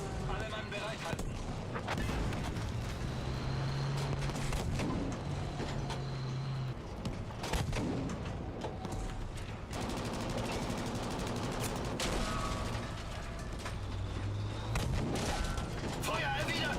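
Battlefield V gunfire in a dense, continuous video game battle mix of rapid shots, booms and mechanical clatter, with game voices and background talk over it.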